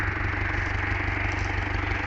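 A Fordson Super Major tractor's diesel engine runs steadily nearby, a continuous rumbling idle with a regular low throb, loud and unbroken, outdoors during ploughing.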